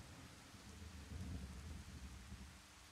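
Steady rain falls outdoors around a white stork nest, a continuous soft hiss with a low rumble swelling in the middle, as if distant thunder, with no voices.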